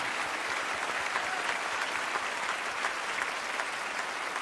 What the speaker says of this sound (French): on les applaudit tous les deux